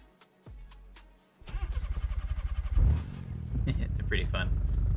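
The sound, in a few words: turbocharged 4-cylinder car engine in video game BeamNG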